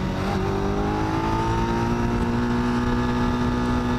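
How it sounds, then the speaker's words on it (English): A Yamaha XJ600 motorcycle engine, its carburetors being tuned, revs steadily under throttle. The tone rises and then holds, continuous and close, with no talk. "Watch what happens with as I get farther back on the throttle."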